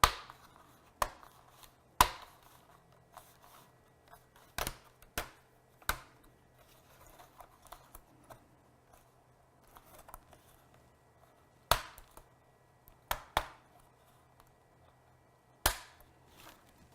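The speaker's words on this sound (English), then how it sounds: "just be able to pry up the trim" Plastic trim is pried off a Dell Latitude E5570 laptop, giving sharp, close snaps and clicks scattered irregularly over quiet stretches.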